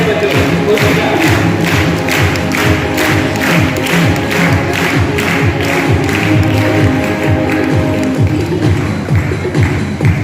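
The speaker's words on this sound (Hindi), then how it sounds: "जोरदार तालियों से स्वागत करते बच्चों को" Loud, dense applause from a large crowd at a National Sports Day school celebration welcomes the children. Rapid overlapping claps and thuds go on steadily without a break, close and full.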